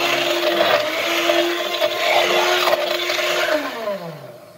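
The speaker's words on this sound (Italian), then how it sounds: "vado a frullare con un frullatore a immersione per passare completamente" Immersion blender pureeing cooked vegetables for homemade vegetable stock cubes, a steady loud whirring drone that shifts in pitch as the blade works through the mixture, then winds down at the end; no talking.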